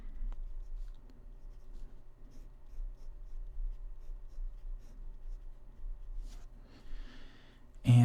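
Marker or chalk writing on a board during a university statistics lecture, steady scratchy strokes at a quiet level over a faint low hum, with a louder bump at the very end.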